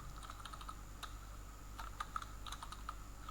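Someone types a file name on a computer keyboard, producing quiet, close keystrokes in an irregular patter over a faint background hum.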